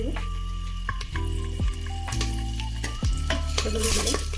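Curry leaves and mustard seeds crackle and sizzle in hot oil for a tempering, with metal spoon stirring and pan clatter close by, alone without talk.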